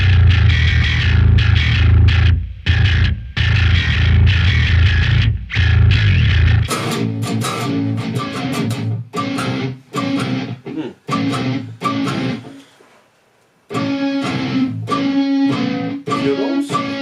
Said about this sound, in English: we destroyed the tone a lot with a lot of distortion to get into the realm of sound that we needed for this album